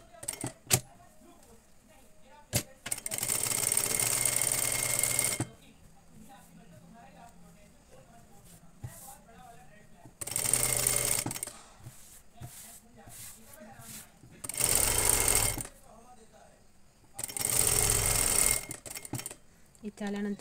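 A sewing machine stitches a katori blouse in short bursts of loud, close whirring, separated by quiet gaps with handling clicks and someone speaking.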